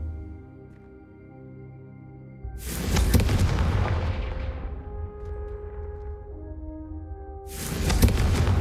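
A Confringo fire spell in Hogwarts Legacy goes off as a loud booming blast that rolls out over several seconds, then a second blast bursts in near the end over a low ambient music bed.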